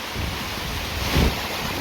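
Loud roaring wind from Hurricane Zeta buffets the microphone on a farm in Lucedale, Mississippi, with a dense rush of heavy rain, swelling briefly in a stronger gust.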